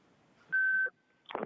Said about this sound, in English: You'll hear a recording that will tell you to begin your comments after the beep.